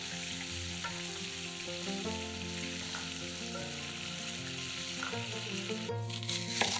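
Meat fillet sizzles over high heat in hot oil, a dense continuous crackle with faint stirring scrapes in a kitchen, close and steady, no talking.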